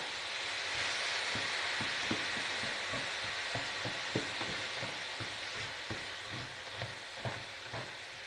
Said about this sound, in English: Ice cubes are okay. And that's going to sizzle away